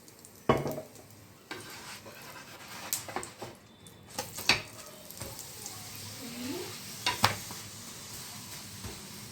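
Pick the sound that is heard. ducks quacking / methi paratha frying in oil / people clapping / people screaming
methi paratha frying in oil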